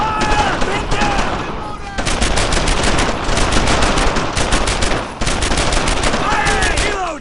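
Dense World War II battle gunfire in Brothers in Arms: Earned in Blood, with overlapping machine-gun bursts and rifle shots in sustained volleys, loud and close, while shouted voices come through the firing.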